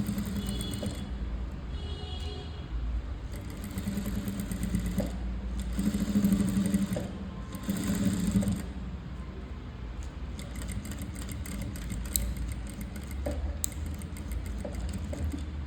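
A sewing machine runs slowly and steadily, stitching invisible thread piping onto a canvas-backed blouse, its mechanical whir close and continuous, with brief pauses and changes in pace.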